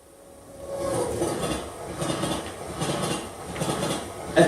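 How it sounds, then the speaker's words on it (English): A train rushes past, swelling from a quiet start into a loud rolling roar with rhythmic clattering of wheels on track, then fading slightly before a sharp final clank. "A train speeds by me."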